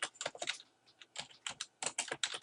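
Name being typed on a computer keyboard during an online sign-up form, a close run of quick key clicks in bursts with short pauses between them.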